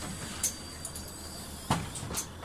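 A bus door opens in the OMSI 2 bus simulator game, with a pneumatic hiss and mechanical clunk, two short distinct events over faint background hum.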